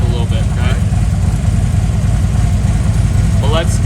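A motorcycle fitted with a Rekluse clutch idles near 1,000 RPM, a loud, steady low rumble with a fast even pulse, close by, while brief bits of talk rise above it at the start and end.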